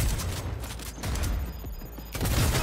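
Rapid gunfire bursts in a Cyberpunk 2077 heist fight, loud and close, with dense crackling volleys separated by brief gaps under a steady low rumble.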